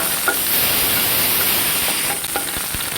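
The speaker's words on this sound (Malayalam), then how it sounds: "നമുക്ക് ഇത്രയും സവാള കറിവേപ്പില തക്കാളി ഈ വെളുത്തുള്ളി ഇഞ്ചി ഒന്ന് ചതച്ച് ഇത്രയും ഒന്ന് നമുക്ക് വഴറ്റിയെടുക്കാം" Onion, curry leaves, tomato and crushed garlic and ginger sauté in a hot pan, giving a loud, steady sizzle with continuous bright frying hiss and occasional stirring clatter, close by with no talk.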